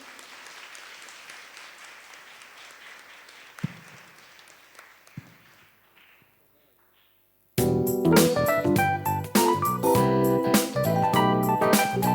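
Applause after a church mass: a congregation claps steadily for several seconds, fading to near silence, before loud music with singing abruptly begins.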